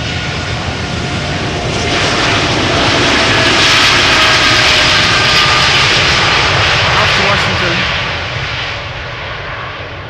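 A United Boeing 787 departing Schiphol Airport roars as its jet engines swell to a loud, broad rumble, peaking midway and then fading slightly as it moves off.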